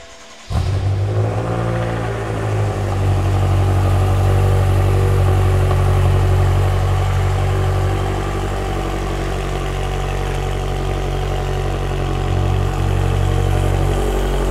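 A BMW M6 engine fitted with downpipes starts up and runs loud and close, holding a deep steady rumble with slight swells over about fourteen seconds and no talk.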